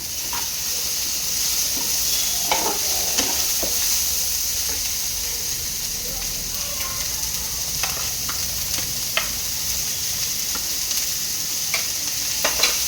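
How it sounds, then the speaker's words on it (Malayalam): Onions are sautéed for a beef cutlet filling in a steady, moderately loud frying hiss, with sharp intermittent stirring clicks and scrapes throughout and no voices. "സബോള ഇട്ട് കൊടുത്തിട്ടുണ്ട് ഇനി നല്ലപോലെ മിക്സ് ചെയ്യാൻ"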